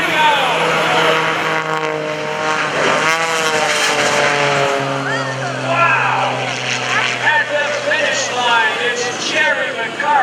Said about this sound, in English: Jerry McCart out there with Wicked Willy ready to hit the throttle. Power's coming up.